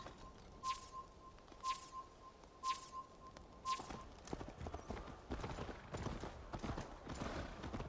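Horse hooves clip-clop in Assassin's Creed Valhalla, first in a few spaced, distinct steps with a repeating chime, then faster and busier, close and clear under faint game ambience.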